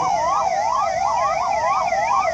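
Emergency vehicle siren from fire and ambulance crews arriving at a residential area set ablaze by a drone attack: a loud, close, rapidly repeating rising-and-falling wail that sounds continuously without any talk.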